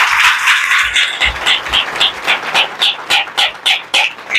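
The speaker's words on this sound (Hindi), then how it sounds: "तो प्रभु को तालियां बजाइए, धन्यवाद दीजिए।" A church congregation claps hands in praise, a dense wash of applause that settles into a steady rhythmic beat of unison claps, loud and close.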